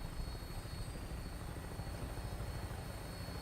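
Steady helicopter rotor drone of a Fallout 4 vertibird lifting off, a constant close, loud broadband whir with low throbbing beneath, unbroken throughout.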